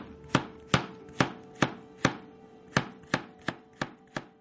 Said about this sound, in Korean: 애호박 썰겠습니다